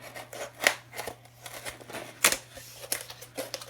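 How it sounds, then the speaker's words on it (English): Scissors or a blade cut through a custom cake board in short, crisp snips and crunches, several spaced irregularly and heard up close in a quiet room. "I'm going to turn it over and I'm going to cut that so that I'm not tearing it and making a rough edge"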